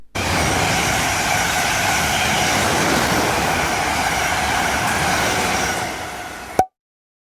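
A train at Frinton-on-Sea station on the Walton branch of the Sunshine Coast Line gives a loud, steady rumble of rolling wagons that holds for several seconds before ending in a brief sharp clunk.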